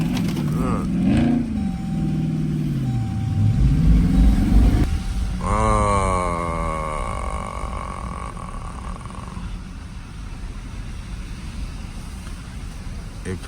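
A 5.7 Jeep driving and sliding through snow, a loud close engine drone with a rising revving sweep midway, then a steady road rumble; someone talks over it early on.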